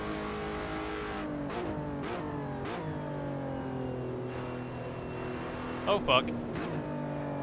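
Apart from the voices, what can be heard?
race car engine in the video game Assetto Corsa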